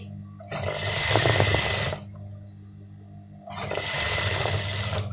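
A nearby sewing machine stitches fabric in two steady, whirring bursts of about a second and a half each. A short quiet pause separates the bursts.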